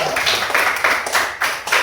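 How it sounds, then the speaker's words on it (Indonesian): Schoolchildren in a coding and AI class clap for a presenting group, rhythmic unison claps in regular pulses, loud and close, with no talking over them. "tepuk tangan dulu untuk kelompok 2"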